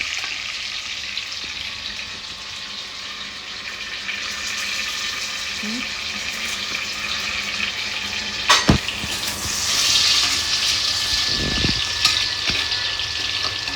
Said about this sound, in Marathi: वरणला फोडणी देते मी